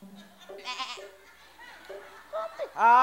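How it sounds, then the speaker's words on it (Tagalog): Goat bleats ring out on a noisy variety-show set, a few short wavering cries spaced apart. The last bleat is the loudest and longest. "Oh, may kambing! Oh, kambing!"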